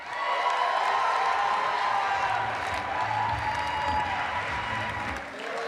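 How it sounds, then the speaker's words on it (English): A large conference audience at the CUE19 keynote applauds loudly and steadily for several seconds as a presenter is welcomed to the stage, with scattered cheers in the dense clapping. "Our first one up, give it up for Alice Chen!"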